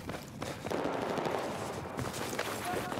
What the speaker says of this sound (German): Ich hab einen Schuss gehört.